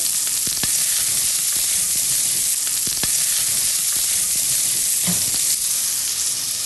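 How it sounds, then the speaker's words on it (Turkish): Bell peppers stir-fry in a hot pan for a fig and meat dish, with a steady, close, loud sizzle broken by occasional faint clicks of stirring. "Ki biberlerim rahat kavrulabilsin."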